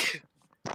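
A sharp, close sneeze bursts out at the start during a tabletop role-playing game session, then dies into soft murmuring before another short burst at the end.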